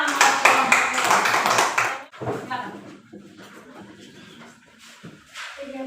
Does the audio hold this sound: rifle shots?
no